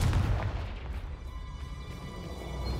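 Fiery explosion from the Confringo blast spell in Hogwarts Legacy, a sustained loud booming roar that rumbles through the whole moment without talk over it.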